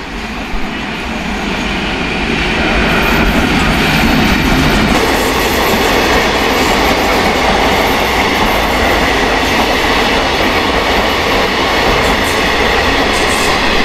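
A train pulls into Kopai station on a route bound for Rampurhat, a steady loud rumble of wheels and carriages with rhythmic rail clatter that swells and holds for several seconds, with no talking.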